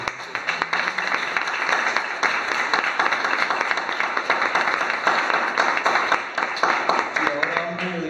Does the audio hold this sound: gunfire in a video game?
no